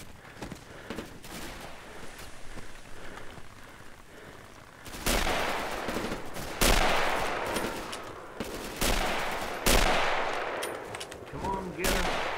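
Repeated gunfire in the video game Mare Nostrum: bursts of automatic fire and sharp single shots, loud and close, with quieter distant shooting in the first few seconds.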